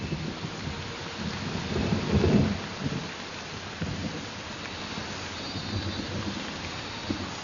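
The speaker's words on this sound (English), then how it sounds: "The incessant rains of the monsoon are the last straw." Heavy monsoon rain pours down in a steady roar while thunder rolls loudly through the middle, then fades back into the constant downpour.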